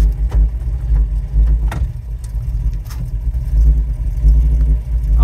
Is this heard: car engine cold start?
yes